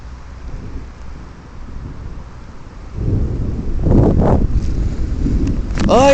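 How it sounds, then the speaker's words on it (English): Thunder from a summer thunderstorm in Greenfield, Indiana rolls in as a deep rumble that swells midway and stays loud, with wind buffeting the microphone and rain underneath. "Oh yeah, give me the thunderstorm!"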